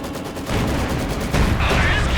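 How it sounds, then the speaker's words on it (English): A Maxim heavy machine gun firing in Company of Heroes 2, with rapid dense bursts of gunfire mixed with other battle noise, loud and continuous. "Infantry marching through heavy machine gun fire there"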